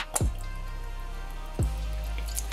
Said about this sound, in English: I'm gonna add a lot of the Worcestershire sauce.